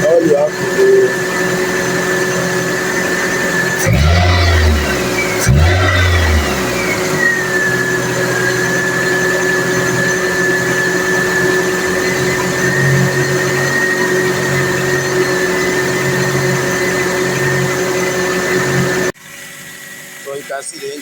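A Pontiac Vibe engine idles steadily after a throttle body service, a constant close hum with a high whine, briefly revved early on before settling back to a smooth, even idle.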